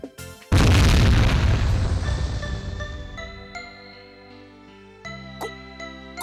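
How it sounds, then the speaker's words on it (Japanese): Explosion in the PS2 game Katekyo Hitman Reborn, a single loud booming blast that rumbles and fades over several seconds, followed by chiming game music tones, with no talk. "ゴクデラ君の寸前で爆発させてる"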